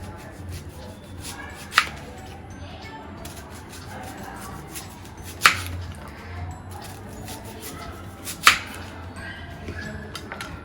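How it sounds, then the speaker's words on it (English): A knife cuts an onion into thin slices on a board, with three distinct sharp chops spaced a few seconds apart over a soft, quiet room background, and no speech. "you have to take the skin portion of the onion and then wash it and then you cut into thin slices like this"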